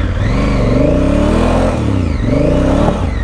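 A Honda Africa Twin motorcycle accelerates hard with traction control off, its engine note loud and close, climbing steadily in pitch, dropping briefly at a gear change, then rising again, with no talk over it.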